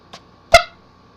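Air horn giving short beeps: a faint brief blip, then one louder, sharper honk that quickly fades, with quiet in between.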